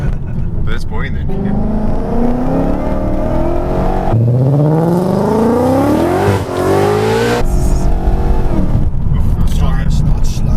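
A supercharged widebody Ford Mustang accelerates hard with its engine rising sharply in pitch as the tyres spin, loud and close, with people talking over it.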